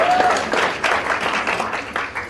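A school audience at an event in Kenya applauds the headmistress, a short burst of scattered, uneven clapping from a mid-sized crowd.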